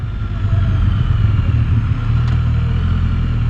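Can-Am Spyder F3-T three-wheeler engine, a close, loud, throaty rumble that dips briefly on the downshift and then pulls steadily under acceleration, with no voices.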